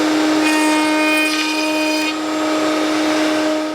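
A power tool steadily cutting a wood joint for a bookcase drawer using a jig, a continuous loud whine with a high steady tone and slight rasping changes over several seconds, no talking.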